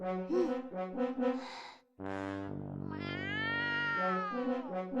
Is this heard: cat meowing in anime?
yes